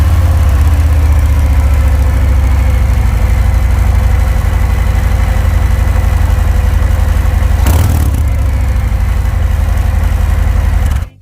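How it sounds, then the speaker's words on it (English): A 2022 Harley-Davidson Fat Bob with the 114 cubic inch Milwaukee-Eight V-twin, cold-started and idling loud and close, a deep, steady, lumpy rumble holding throughout with one brief blip midway before cutting off. "This is Harley-Davidson's famous 114 cubic inch Milwaukee 8 engine."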